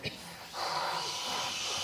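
A theatre audience imitates wind with their voices, a soft rising breathy hiss swelling after a brief pause and holding steady, group voices blowing together rather than real wind.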